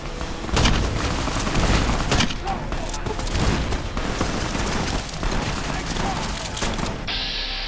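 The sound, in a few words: bus explosion and gunfire in a Fallout video game mod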